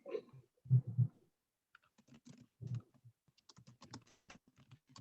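Quiet, scattered keystrokes on a computer keyboard in short uneven bursts, with a few louder low thumps near the start, heard alone at low level.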